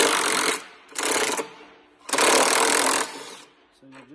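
Impact wrench unscrewing bolts from the detachable head of a Tomahawk 1776 concrete grinder, loud buzzing rattling bursts in three runs, the last about a second long, followed by a brief quiet tone at the end.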